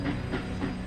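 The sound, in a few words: train running in cartoon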